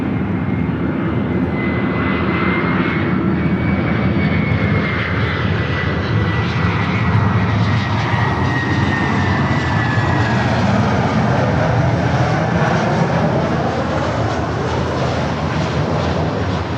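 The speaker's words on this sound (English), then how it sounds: "Next arrival is the Delta A319." Delta Airbus A319 arriving at Los Angeles airport, a loud, sustained jet engine roar with a slowly shifting whine that swells and holds steady throughout, with no talk.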